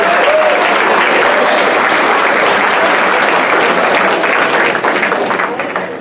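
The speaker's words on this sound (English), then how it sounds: "Give these guys a round of applause up here." Sustained audience applause from a crowd at a hypnosis show, loud and dense throughout, holding steady before tapering slightly at the end.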